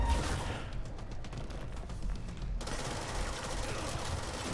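Dense, continuous barrage of gunfire and blasts from grenades thrown all at once in the game Control, a loud unbroken fusillade with a brief louder burst partway through.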